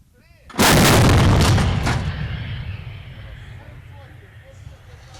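One heavy coast guard artillery gun blast booms out close by during a firing exercise, followed by a long rumbling echo that slowly fades over several seconds.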